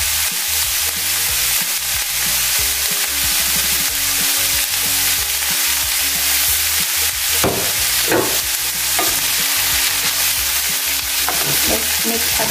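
Vegetable filling for Filipino lumpiang gulay spring rolls frying and being stirred in a pan, a loud constant sizzle with repeated scraping and clatter of the spatula over about twelve seconds.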